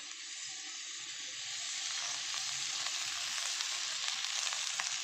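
Coriander seeds fry in two to three spoons of hot oil, a bright, even hiss that swells slightly partway through and then holds steady and close, with no talking.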